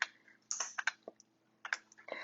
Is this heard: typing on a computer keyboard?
yes